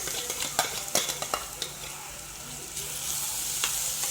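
Peppers and onions frying with chicken breast in a pan, a steady sizzle broken by sharp scraping stirs and utensil knocks in the first half, then a continuous hiss.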